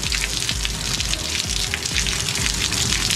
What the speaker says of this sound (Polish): Jak ruszyliśmy przyczepę, zaczęła woda lecieć.